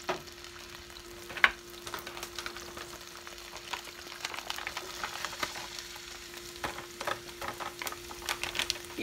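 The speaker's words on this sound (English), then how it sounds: "we're cooking the oil and the garlic" Shrimp with garlic cook in hot oil in a home kitchen, giving a steady crackling sizzle with scattered pops and occasional stirring scrapes, close and moderately loud, with no talking.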